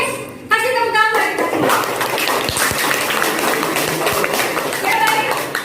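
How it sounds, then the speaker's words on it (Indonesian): A classroom of students clapping hands together after a short chant, a burst of close, lively clapping that starts abruptly and continues steadily with voices mingled in. "kasih tepuk tangan"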